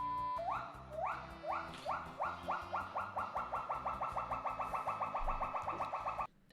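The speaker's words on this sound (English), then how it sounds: "the pileated gibbon, because in my opinion, they have the coolest call." Pileated gibbon song: a long series of rising, whooping hoots that begins slowly and accelerates into a rapid, evenly pulsed trill. Loud and close throughout, ending abruptly, with no talking.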